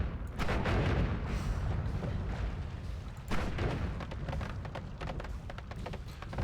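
Explosions in the video game Noita, a run of deep booms and crackling blasts with a big burst at the start and another midway, rumbling on throughout.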